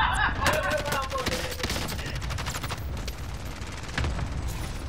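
Rapid bursts of gunfire in Call of Duty: Modern Warfare crackle continuously, dense and loud, with booming impacts and faint voices mixed underneath.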